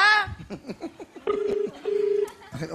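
Telephone keypad tones beep in a quick sequence, followed by two longer steady dial tones, with faint voices and a laugh around them.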